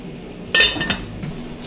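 Lid set on a pot of Tuscan white bean and sausage soup: a single sharp metallic clink up close, followed by a brief rattle as it settles, over a low steady background.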